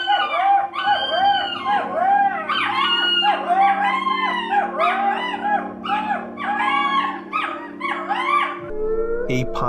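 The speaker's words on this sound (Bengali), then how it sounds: "কিন্তু গ্রামের রাতে শিয়াল কুকুরের ডাক আর ঝিঁঝি পোকার ডাক" Cartoon-style chorus of jackals and dogs howling in a quiet village at night, many overlapping rising and falling wails continuing steadily, with a low hum beneath, then cutting off abruptly near the end.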